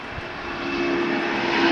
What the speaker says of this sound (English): There's another plane we don't see at DFW, Aloha Air Cargo.